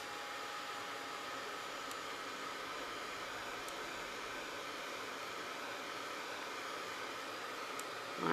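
A heat tool runs steadily to dry distress ink on a paper craft tag, giving a constant close whooshing blow with no pauses and no talk.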